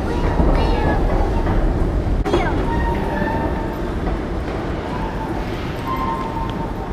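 Stockholm commuter train ride, with a steady loud rumble of the carriage throughout, brief squeals and hisses over it and a short clunk near the start; a voice is faintly present underneath.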